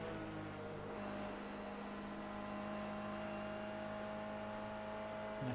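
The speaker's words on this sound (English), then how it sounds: "behind Matt, there's a faster car approaching" A GR86 in a Nürburgring racing sim with a faster car closing from behind: a steady, faint engine drone and whine holds throughout, with no talk over it.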